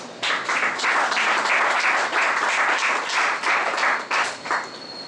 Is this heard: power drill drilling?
no